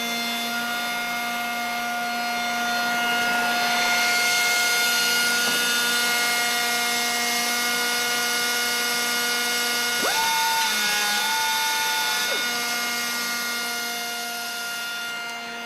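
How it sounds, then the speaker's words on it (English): Vector Revolution free-form edge banding machine running, with radius cutter heads tracing around a panel during edge application: a sustained tonal mechanical hum with steady pitched lines, a shift in tone partway through, moderately loud and free of speech. "Top and bottom tracer shoes and a horizontal shoe control the radius cutter heads as they travel around the panel in the same pass as the edge application cycle."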